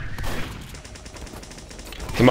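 Gunfire crackles in a Team Fortress 2 competitive match, a short burst of several quick shots with game noise and a louder hit at the end.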